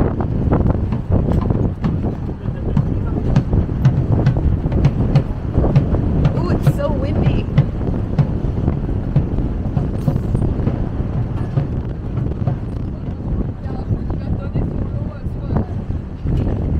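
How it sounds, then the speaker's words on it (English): Strong wind buffeting the microphone aboard a ferry crossing near Tadoussac, Quebec, a loud continuous low rumble with gusty thumps over the boat's drone, while a person speaks briefly. "It's very windy today."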